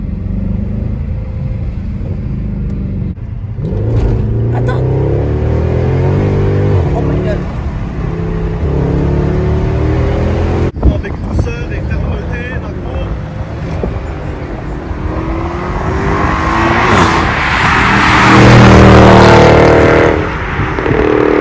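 Mercedes C63 AMG with a 6.2-litre V8 accelerating onto a highway, a steady loud engine rumble rising toward the end, with someone talking over it throughout.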